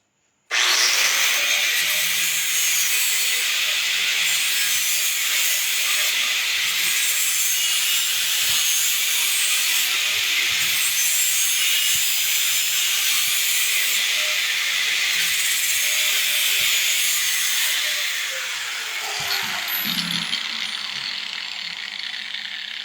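A grinder puts an edge on a short katana blade, a loud continuous abrasive hiss that runs steadily for about twenty seconds before winding down.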